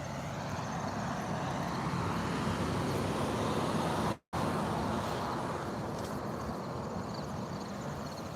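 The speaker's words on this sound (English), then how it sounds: "This car is gonna drive by me right now." A silver car with a dim headlight rolls past in an alley before dawn, a steady broadband rumble of tires and engine filling the scene, briefly cut by a moment of silence midway.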